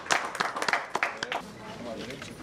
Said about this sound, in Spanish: Vamos a brindar un fuerte aplauso